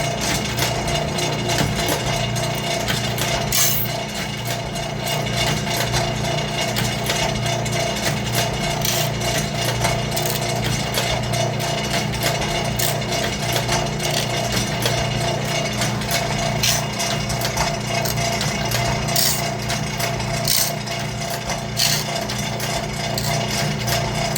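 A sawmill band saw blade being sharpened gives a steady, loud grinding drone that runs unbroken throughout, with faint metallic ticks and scrapes over the top and no talk.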